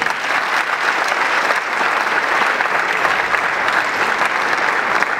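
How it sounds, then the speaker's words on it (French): Audience members at a stand-up comedy show in a Palais des Congrès hall applaud themselves, a loud, continuous, evenly sustained burst of many hands clapping with no pause. "Vous pouvez applaudir pour vous-même d'abord."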